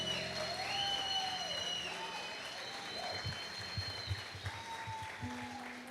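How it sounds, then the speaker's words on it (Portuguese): A church conference congregation applauds their pastor, steady clapping and crowd noise running throughout over sustained musical tones and some voices. "Você pode aplaudir pela vida do nosso pastor?"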